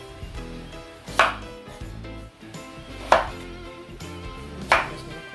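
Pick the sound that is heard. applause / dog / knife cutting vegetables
knife cutting vegetables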